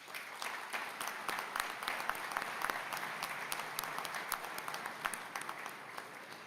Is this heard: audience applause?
yes